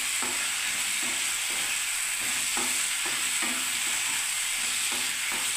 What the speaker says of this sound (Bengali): এই যে এখানে ঝিঙে আর বেগুনটা আমি এর মধ্যে দিয়ে দিচ্ছি বন্ধুরা, মশলাটার মধ্যে দিয়ে দিলাম। আমি আবার নাড়তে থাকবো বন্ধুরা